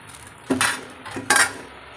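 Two separate clattering drops as okra is tipped into a boiling tamarind curry, each a bright metallic clink with a short rustle, about a second apart.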